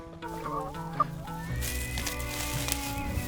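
Several farm chickens cluck and chatter close by in a continuous busy flock, with no talk.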